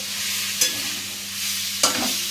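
Spinach being stirred in a hot pan with a steady low sizzle, two sharper scraping stir strokes standing out, no voices.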